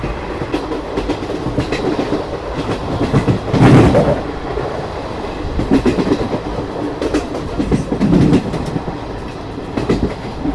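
A passenger train travelling from Tarapith to Kolkata rumbles loudly past Gadadharpur station, heard from inside a nearly empty carriage. Rhythmic clickety-clack beats from the wheels rise over a constant rolling roar, with heavier surges coming every few seconds.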